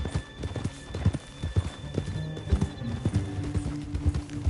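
Video game horse hooves clip-clop rhythmically on hard ground, fairly close, with a horse neighing near the end, in Red Dead Redemption 2.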